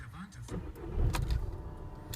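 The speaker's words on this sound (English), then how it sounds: "As you can see, it roars into life straight away." A 2008 Skoda Octavia vRS engine cranks briefly and catches, settling into a throaty idle close by; short and loud, with possible talk in the background.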